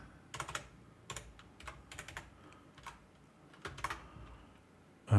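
Password being typed on a computer keyboard while setting up a PulseChain testnet validator: several quick bursts of close, crisp key clicks with short pauses between them, then a louder thump at the end.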